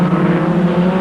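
A Formula Ford race car engine screams at high revs during a race, a loud, sustained buzzing tone filling the whole moment.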